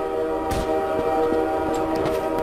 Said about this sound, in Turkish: tren sesi öyle bir geliyor ki bizim dışarıdan geliyor sence